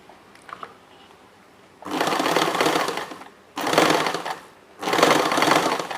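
A sewing machine stitching a blouse sleeve runs in three loud bursts of steady rapid stitching, each lasting about a second or two, separated by brief pauses.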